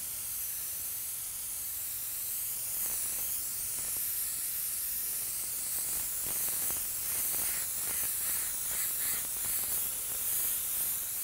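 Spray gun laying down coats of black cherry candy paint on an auto body panel, a steady airy hiss running continuously throughout with slight pulsing toward the end as passes are made.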